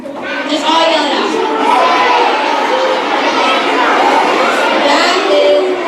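A crowd of elementary school children yelling out goat bleats together, a loud, sustained chorus of wavering, shouted voices imitating the animal, close and overlapping throughout.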